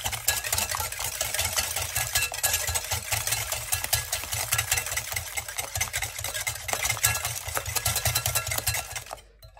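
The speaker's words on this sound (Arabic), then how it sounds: "نخلط غير بيدي هاي هكا" Sugar stirred by hand into warm water in a bowl gives a constant close, gritty swishing and rustling that runs steadily for several seconds, then stops abruptly.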